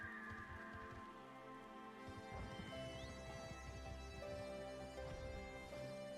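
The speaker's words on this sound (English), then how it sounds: "It's still raining." Rain falls steadily in Final Fantasy XIV, a faint, even patter under soft sustained musical tones.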